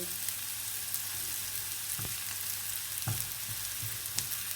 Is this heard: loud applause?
no